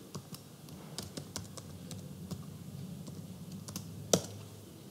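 Typing a search term on a desktop computer keyboard into a search box: light, irregular key clicks at moderate distance, ending with one sharper tap that could be the enter key.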